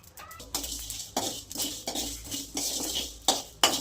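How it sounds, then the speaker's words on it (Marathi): Masala, garlic and coriander roasting together in a pan for stuffed masala bhindi, rhythmic metal spoon clinks and scrapes against the pan, close and fairly quiet. "सगळंच एकदम टाकूयात आपण आणि भाजून घेऊयात मस्त"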